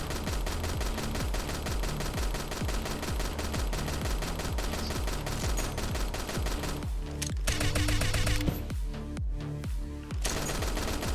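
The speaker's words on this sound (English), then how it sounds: "I've lowered the main gun sound effect to make it less abrupt." A video game tank's main gun fires in a steady, dense rhythm of rapid repeated blasts throughout, loud and continuous, with a brief thinning near the end before the firing resumes.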